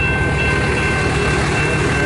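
Eastbound freight train passing near Port Huron, Michigan, a steady loud rumble of rolling wagons filling the whole stretch, with a faint high whine and no talk.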